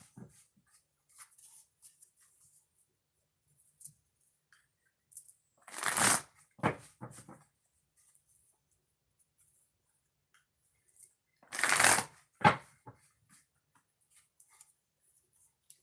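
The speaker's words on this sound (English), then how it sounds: "2 shuffles for Geminis" Two bursts of riffle shuffling, each a quick cascading flutter of cards followed by a tap, separated by a quiet stretch with faint handling noises.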